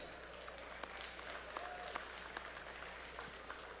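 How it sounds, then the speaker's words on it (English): Faint applause at a junior cattle show for a set of Charolais bull calves, scattered claps from a distant audience over a low steady hum in a large indoor arena. "Let's give them a big round of applause."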